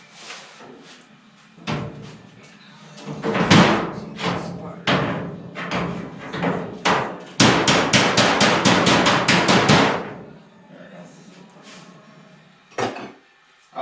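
Metal hammer-and-dolly bodywork on a Henry J gasser body panel in a back yard: sharp, loud clangs, first spaced, then a fast burst of rapid strikes, with someone talking in the gaps.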